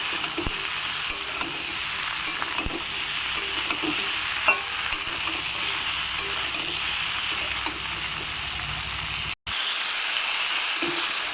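Sliced ridge gourd and potato stir-frying in hot oil, a continuous near sizzle with occasional spoon scrapes and light clinks, briefly cut to silence near the end.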